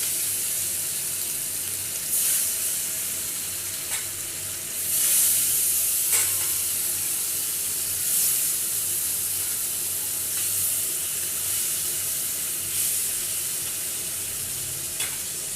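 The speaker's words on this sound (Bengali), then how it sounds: "আবারও বাকি মাছগুলো দিয়ে দিচ্ছি।" Parshe fish fried in hot mustard oil in a pan: a continuous, close crackling sizzle with periodic bursts of spattering every couple of seconds, no talking.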